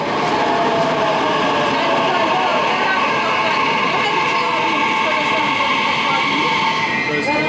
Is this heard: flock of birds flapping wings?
no